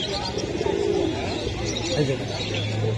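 Pigeons calling at a busy Bangladeshi pigeon market, Meradia bazaar, with soft coos and bird calls under steady crowd chatter and nearby talking.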